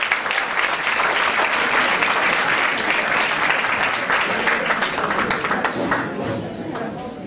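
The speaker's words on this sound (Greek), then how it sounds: "Αυτούς χειροκροτάτε." Theater audience applauding after a Greek amateur stage performance, a loud sustained roar of many hands clapping that tapers slightly at the end, with some voices mixed in.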